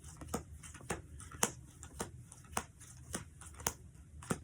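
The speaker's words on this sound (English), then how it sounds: "after that, we can do another left-right shuffle" Playing cards being shuffled in a series of sharp riffles, about nine quick bursts spaced roughly half a second apart, close and crisp.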